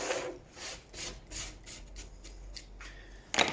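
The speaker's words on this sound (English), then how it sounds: "I can then run down there like that with a chisel, get all that old paint off" A chisel scrapes old paint off a wooden board, giving a few uneven rasping strokes up close that fade in and out, then a sharper scrape at the end; no one speaks.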